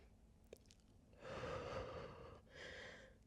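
A deep, slow breath during a slow, controlled vinyasa flow yoga practice, a long breathy rush swelling for about a second, then a softer second breath after a short pause, close and quiet with no talk.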